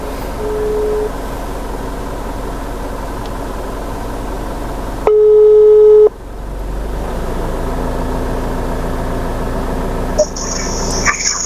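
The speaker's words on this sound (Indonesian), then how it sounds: "Oke, saya langsung aja telepon Pak Sobarinya ya dari Demak" A single telephone ringback tone sounds for about a second while a call is being placed, a clean steady beep standing out against a low background hum.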